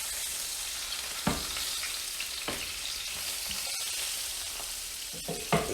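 A Texas-style smoked reverse-sear ribeye steak hissing on a hot grill, steady faint sizzle with a few soft knocks and clicks, heard alone without talk.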